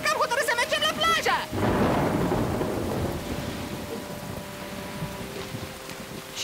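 Cartoon rainstorm with a loud thunder crash that rolls into steady pouring rain, continuing for several seconds after a brief character voice at the start.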